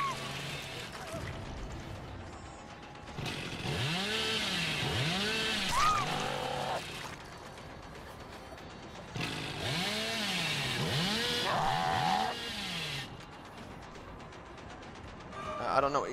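A chainsaw revs in the video game Dead by Daylight, used by the Hillbilly with a tuned carburetor. Two long bursts rise and fall in repeated swooping pulses, mixed with game sounds and occasional talk.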